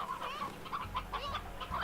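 Chickens cluck in the video game Slime Rancher, several overlapping bird calls close and fairly loud over a low steady hum, with no talking.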